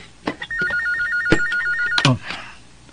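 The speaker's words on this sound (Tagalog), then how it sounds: "Ang telepono." An electronic phone ring warbles for roughly a second and a half amid scattered knocks and shuffling noises nearby.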